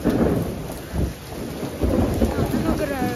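Thunder booms and rumbles in rolling low surges through heavy rain, which keeps hissing and pattering loudly on surfaces nearby the whole time.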